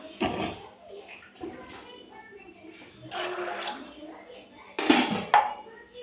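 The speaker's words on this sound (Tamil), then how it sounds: "இதுக்கு வந்து தண்ணி ஊற்றி வேக வச்சிடலாம்." Water poured into a pot of soaked black chickpeas in a kitchen, heard as a couple of splashy gushes with light clinks of cookware between them.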